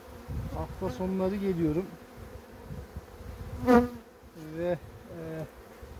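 Honeybees buzz steadily at a hive of varroa-infested colonies being treated with oxalic acid, a continuous close drone running under a man's speech throughout.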